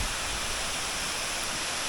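Mountain stream near Issyk-Kul rushing loudly and continuously, a dense roaring wash of flowing water with no other sounds.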